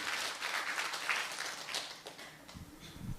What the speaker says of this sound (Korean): 우리 하나님 앞에 영광의 박수 돌려드리겠습니다